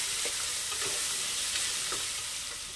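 Chopped onion sautés in a pan for a field bean pulao, making a continuous close hiss and sizzle broken by soft rhythmic scrapes of a stirring spoon.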